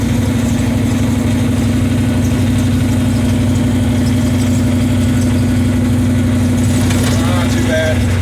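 The 1929 big-block Model A hot rod's engine drones loud and steady throughout while it drives over bumpy tracks, with a deep, continuous hum and no break in the sound.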